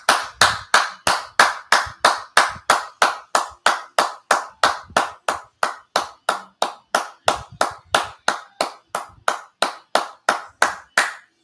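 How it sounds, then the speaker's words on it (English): Rhythmic hand clapping at a wrestling show, loud, close and alone, striking in a steady even beat of roughly three to four claps per second that continues unbroken to the end. "didn't get that big of a cheer"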